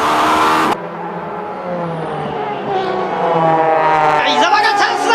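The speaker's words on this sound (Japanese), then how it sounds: "ARTA 伊沢拓也、トップを走る高田ドーム道上亮に迫る" Honda NSX GT500 race cars roar around a circuit, engines screaming and shifting as they pass, with commentary over the top.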